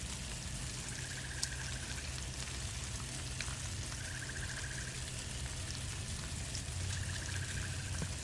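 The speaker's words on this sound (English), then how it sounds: "That shit's sizzling up nice." Cooked canned tuna sizzles in a pan, a steady quiet crackle and hiss with faint pops, heard alone at low level throughout.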